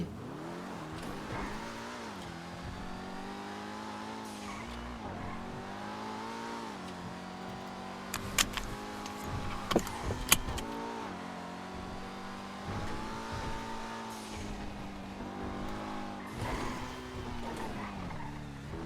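A car driven in GTA V on uneven ground gives a continuous engine drone that rises and falls with revving and shifting, with a few sharp knocks and scrapes partway through.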